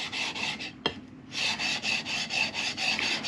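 Rhythmic rasping strokes of material being ground on a SchleifJunkies BCN plate, repeated back-and-forth scrapes in a steady cadence, close and fairly loud, with one brief pause and a sharp tap partway through.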